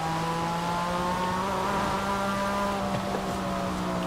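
A Porsche in Forza Horizon 5 drives at steady high revs, its loud continuous engine drone holding an even tone with light tire noise, close and with no talk.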